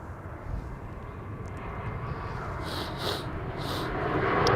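A Star Alliance Airbus A340-600 arrives at Amsterdam Schiphol, its engines a steady broad roar that slowly swells louder as it nears, with no voices.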